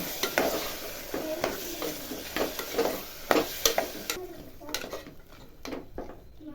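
A spoon stirs cumin powder and curd in a pot for vegetable pulao, scraping and clinking in irregular close strokes over a faint sizzle.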